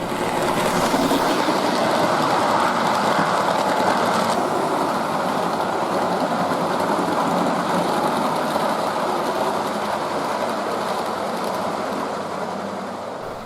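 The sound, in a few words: Hornby A4 model locomotive running on layout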